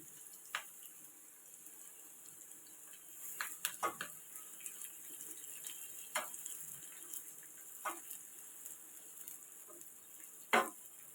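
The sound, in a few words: sliced onions sautéing golden for fish curry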